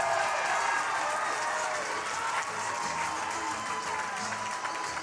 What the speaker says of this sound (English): The Spash crowd went wild.